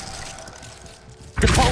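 The Glacius freezing spell is cast in Hogwarts Legacy, ending in a sudden loud, crackling icy burst after a quiet stretch.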